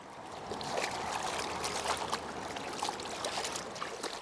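Cold river water flows steadily around three workers standing in it, stripping and rinsing hemp skeins by hand; a continuous, moderately close rushing with small splashes and trickles, no voices.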